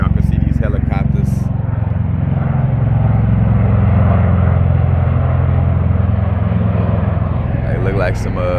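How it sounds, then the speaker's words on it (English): Military helicopters fly overhead with a loud, continuous low rotor and engine drone that stays strong and steady throughout. "Let me see if y'all can see these helicopters."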